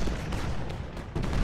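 Cannon fire in the Civil War battle game Ultimate General: Gettysburg forms a dense, continuous rumble of overlapping booms, with a few sharper blasts standing out in the barrage.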